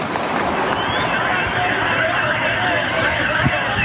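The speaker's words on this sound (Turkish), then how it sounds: "Kim o sıkan kim ya? Polis mi sıkıyor? Kim sıkıyor?" Sharp bangs of gunfire during a shooting incident in İzmir, in which police shot an attacker, sound against loud, chaotic background noise, with a stronger report near the end and voices mixed in.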